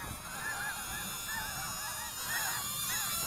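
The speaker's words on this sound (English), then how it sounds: "there are lots of geese here" A large flock of geese honks continuously and loudly, many overlapping calls repeating as the birds come in to land outdoors, with no talking.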